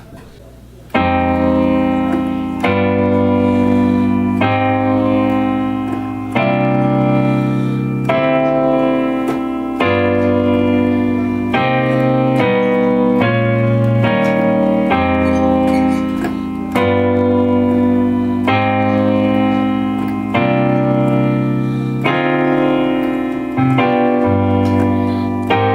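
Slow piano rendition of the bridge from a song, sustained chords changing every second or two in a steady, unhurried groove with no talking over them.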